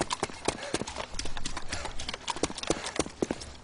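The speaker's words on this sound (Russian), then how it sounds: "это шаги ваши по этой брусчатке" Character footsteps across cobblestone and rocky ground in DayZ, a brisk sequence of sharp clacking steps in an uneven clip-clop rhythm, loud and close, with people talking over them.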